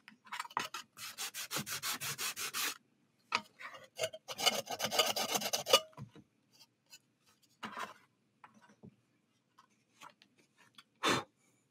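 Sandpaper rasps over a glowing tesseract-style prop, whose shiny outside is being left untouched: two sustained runs of quick, rhythmic strokes, then scattered single scrapes and one last short pass, all close up with no talking.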